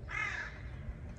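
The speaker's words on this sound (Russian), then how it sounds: "Вороны раскаркались." A crow gives a single harsh, drawn-out caw outdoors on an overcast day, standing out clearly over a steady low rumble of background noise.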